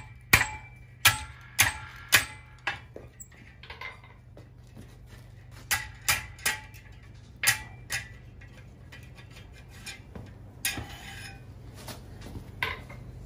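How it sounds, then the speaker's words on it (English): Sharp metallic taps ring out in irregular clusters, a hammer striking the side of a vise to squeeze metal coils together while forging a gun barrel, with a low steady hum beneath. "We're gonna use our hammer on the side of our vise to squeeze these coils together."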